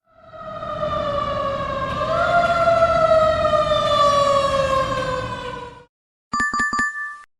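A fire truck siren wails loud and steady for about six seconds, its pitch rising partway through before it cuts off. A short, bright electronic chime follows.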